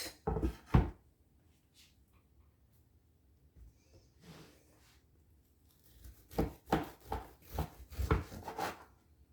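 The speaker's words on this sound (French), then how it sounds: "je pense qu'il a assez refroidi pour pouvoir le découper et vous montrer l'intérieur" A knife cuts through a cooled savory loaf cake studded with olives and saucisson, a few soft crackly rubbing strokes early, then a busier run of close slicing and tearing sounds toward the end.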